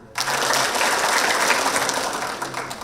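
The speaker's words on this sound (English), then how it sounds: "And clap 5 times if you're ready for the summer." A room of fifth-grade students claps in unison at a school completion ceremony: a sudden wash of many hands that stays lively and close for a few seconds before easing slightly.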